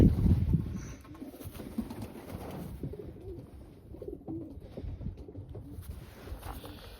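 Soft cooing from young Janssen De Klak pigeons repeats in low, throaty murmurs close by, with faint rustling and background noise around it.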